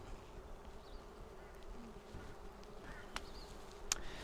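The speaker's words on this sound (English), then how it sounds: "So I've noticed the tune of the bees again." Honeybees buzz steadily at an open hive during a brood inspection, a soft continuous hum with faint higher whines of individual bees passing close, no talking.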